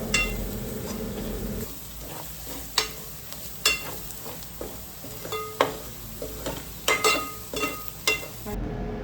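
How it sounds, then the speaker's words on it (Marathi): Onion and masala sautéing in oil for a homestyle mutton curry, giving a close, steady sizzle broken by repeated sharp scrapes and clinks of a spoon stirring against the pan. "जोपर्यंत मसाल्याला तेलाचा तवंग सुटत नाही तोपर्यंत आपण त्याला परतून घ्यावं"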